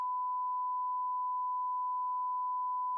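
One long, steady censor beep holds a single pure tone for about three seconds, loud and alone with nothing else around it, as used to cover speech in a casual podcast.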